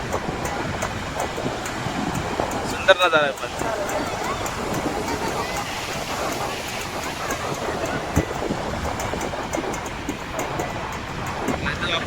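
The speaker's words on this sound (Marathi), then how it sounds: "हरिहरेश्वर बीच आहे सुंदर बीच आहे लाटा बघा तुम्ही वारा सुद्धा आहे" Sea waves and gusting wind at Harihareshwar beach under monsoon weather, a continuous rushing wash with wind buffeting the microphone while a person talks throughout.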